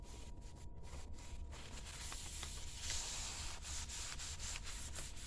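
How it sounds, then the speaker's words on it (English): Beet juice dye being rubbed off junk journal paper, a steady close dry scrubbing and rasping that runs continuously and swells slightly in the second half, with no talk. "You just rub it off."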